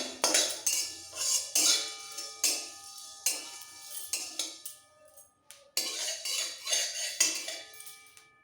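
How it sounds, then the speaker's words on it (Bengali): Fennel and whole spices are dry roasted in a pan for a ripe jujube chutney, with a metal utensil clinking and scraping against the pan in a steady stirring rhythm, fairly quiet and without talking. "সামান্য একটু মৌরি মশলাটাকে একটু ভেজে নেবো ড্রাই রোস্ট করে নেবো"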